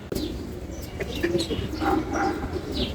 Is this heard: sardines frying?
no